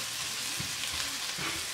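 Carrots and onion fry in a pan for a vegetable and bean stew, giving a soft, steady sizzle with a few faint stirring scrapes and no voices.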